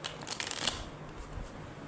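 A tarot card deck is shuffled close by in a short riffling burst, then settles into faint handling noise.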